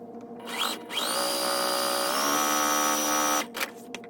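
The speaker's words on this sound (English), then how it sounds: "I'm going to use my 1/4 inch seam and sew them together." Sewing machine running a quarter-inch seam through quilt blocks, a steady mechanical whir with a pitch shift midway that runs for about two and a half seconds between brief handling noises, fairly close and with no talk.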